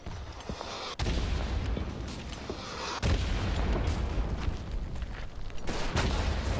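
Mortar and artillery blasts in a World War I shooter set at Verdun, with heavy booming impacts at about one and three seconds and continuous rumbling battle noise throughout, fairly loud and close.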